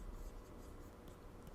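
Chalk or marker writing on a board during a physics lecture on magnetism, a short steady scratching stroke heard faintly under quiet room noise, no talking.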